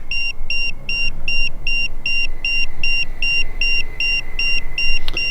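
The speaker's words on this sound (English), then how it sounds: "Yeah, it's beeping for a reason." An electronic device beeps in a steady repeating pattern, about a dozen high, even tones, over a constant low rumble like a running vehicle.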